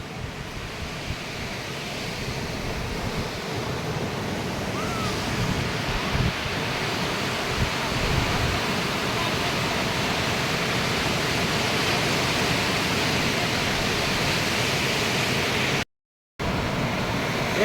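Ocean surf at Colva Beach in Goa, a steady broad wash of waves and wind noise that stays fairly loud and even throughout, with no voices.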